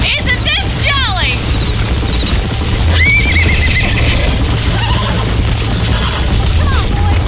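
Horse galloping and neighing in Red Dead Redemption on PC, loud and close, with repeated whinnies early and midway over pounding hooves, game music and ambience, under occasional in-game voices.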